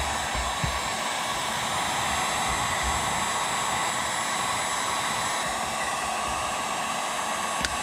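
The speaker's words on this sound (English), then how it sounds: "Now a good finishing touch is to hit the whole thing with the heat gun." A heat gun blows a steady, loud, continuous hiss of hot air over a vinyl graphic being applied to a vehicle in a garage, with no talk.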